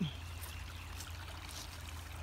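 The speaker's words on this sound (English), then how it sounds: "here's the creek, you guys. Beautiful, beautiful sound." Backyard creek flowing beside a forest, a steady close trickling and babbling of water with a low continuous rumble underneath, heard alone.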